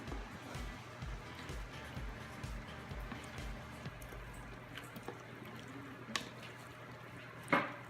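Egg, milk and crumbled zucchini are stirred together for a casserole, giving soft, wet squishing and rhythmic mixing sounds that slow and fade, with a few faint clinks near the end.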